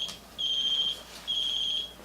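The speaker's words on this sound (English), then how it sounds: "It's like an alarm." Two sustained high-pitched electronic alarm tones from a phone, each lasting about half a second, separated by a short pause; fairly faint, with no talking.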